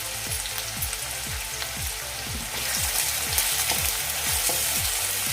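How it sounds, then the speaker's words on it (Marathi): Finely chopped onion and curry leaves sauté in hot oil in a kadhai for a cauliflower-peas masala, with a continuous close sizzle and a quick regular rhythm of spatula strokes. The frying grows slightly louder halfway through, and nobody speaks. "थोडासा कांदा आपला ट्रान्सपरंट होईपर्यंत हे परतायचं"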